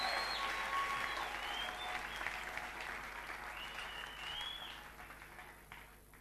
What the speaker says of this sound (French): Nous voulons applaudir le Seigneur à l'acclamation très fort.